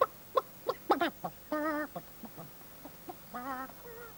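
A hen clucking with her chicks, a run of short close clucks and a couple of longer drawn-out calls, moderately quiet with gaps between.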